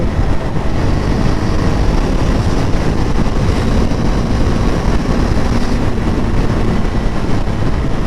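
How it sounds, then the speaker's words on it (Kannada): Heavy wind blast buffeting a rider on a KTM Duke 390 motorcycle, a loud, dense roar of rushing air mixed with engine rumble, steady and unbroken, with no talking. "ಸಿಕ್ಕಾಪಟ್ಟೆ ವಿಂಡ್ ಬ್ಲಾಸ್ಟ್ ಇದೆ ಗುರು."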